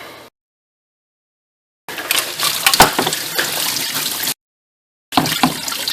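Coolant gushes from the drain plug on the bottom of a water pump on a 2002-2005 Chevrolet Cavalier Ecotec into a drain pan, in two loud bursts of splashing with a silent gap between.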